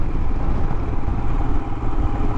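A Royal Enfield Himalayan motorcycle on the move, its steady engine drone and road rumble running loud and close without a break, with no talking.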